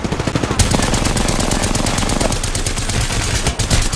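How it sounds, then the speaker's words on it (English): Rapid automatic gunfire in the shooter game Apex Legends, a dense sustained burst of shots that runs almost unbroken for several seconds, loud and close, with no talking. "How did you miss all those shots?"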